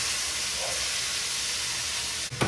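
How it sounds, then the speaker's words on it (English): Chopped onions hit a hot pan for green chili and sizzle in a constant, fairly quiet hiss, ending with a short clunk of utensil or pan. "And then we add the onions."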